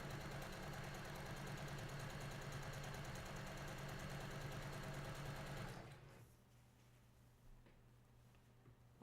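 A sewing machine stitching batik quilt fabric runs with a steady, fast mechanical whir and hum for about six seconds, then stops, leaving a faint low background hum.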